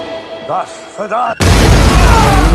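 Sudden loud blast from a small improvised explosive made with a mousetrap in the action film Nobody, erupting after a few soft clicks and voices and filling the scene with roaring noise.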